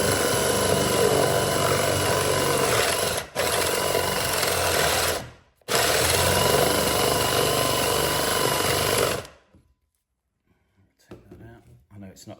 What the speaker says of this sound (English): Drill this first one.